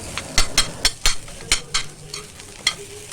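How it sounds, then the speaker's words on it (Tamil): Boiled peanuts, potato and masala powder stirred in a pan for masala peanut sundal, a series of sharp scrapes and clinks of a spoon over a soft sizzle, close and rhythmic, with no voices. "இப்போ உருளைக்கிழங்கு மசாலாத்தூள் வேர்க்கடலை ஒரு பரட்டு பரட்டிட்டு"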